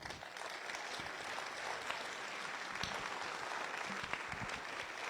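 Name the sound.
audience applause at municipal New Year ceremony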